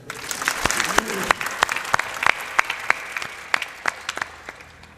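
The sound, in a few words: audience applause at a satsang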